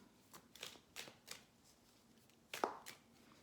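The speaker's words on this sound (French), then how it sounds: "Allez, on remet une carte." A tarot card is drawn from the deck and laid down during a reading, heard as a few soft, quiet card slides and flicks spaced apart, with a sharper snap near the end.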